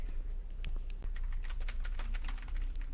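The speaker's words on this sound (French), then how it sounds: "Je l'entends Ah, maltraiter son clavier." Someone pounding hard on a computer keyboard, a fast, irregular clatter of sharp keystrokes close by over a low background hum, with no one talking.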